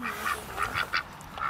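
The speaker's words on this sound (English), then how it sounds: "He has like pet, his ducks back here." Pet ducks kept in a backyard quack in a short series of bright, nasal calls, about five bursts in quick succession, fairly close by with no talking over them.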